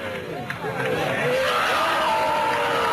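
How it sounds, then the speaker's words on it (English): Big outdoor crowd cheering and shouting as a midsummer effigy is set alight, a dense continuous roar of many voices with rising whoops and calls. "And now they're lighting the effigy on fire, and everybody's cheering."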